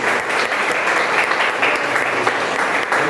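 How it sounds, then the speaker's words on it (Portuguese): A church congregation applauding at the close of a garage worship service, loud continuous clapping filling the room, close and dense with no speech over it. "Aplauda o nome do Senhor e vamos encerrar assim"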